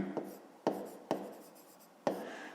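Pen writing a math answer by hand, a few faint, quick strokes and taps spaced across a quiet moment, with soft speech in the background.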